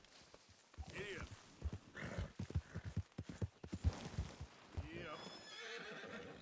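A horse in the Red Dead Redemption 2 video game clip-clops along and whinnies, with a rider's brief voice between the hoofbeats and snorts, moderately close and fairly quiet overall.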